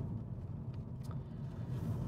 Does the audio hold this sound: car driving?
yes